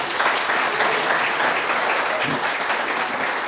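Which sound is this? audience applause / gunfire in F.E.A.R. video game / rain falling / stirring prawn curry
audience applause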